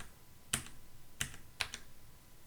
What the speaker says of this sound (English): You can also use the arrow keys on your keyboard.